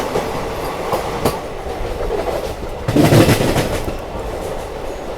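The Simhadri Express pulls into platform 4 at Duvvada railway station, its wagons rumbling with a rhythmic clickety-clack that swells midway, close and loud.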